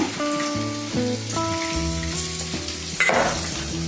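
Masala with turmeric sizzles steadily in a pan at the start of a beef liver fry, a continuous close frying hiss under background music with a brief louder flare near the end.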